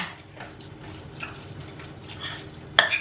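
Leek fritter batter being stirred in a bowl, giving soft wet sloshing and scraping strokes in a steady rhythm, close up, ending with a sharp clink.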